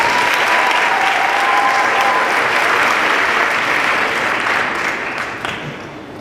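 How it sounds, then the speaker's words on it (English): An audience at a conference claps for the speakers, a dense, even roar of many hands in a large hall that stays loud and then tapers off near the end. "can we please give a round of applause for our speakers?"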